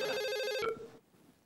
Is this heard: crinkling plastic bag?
no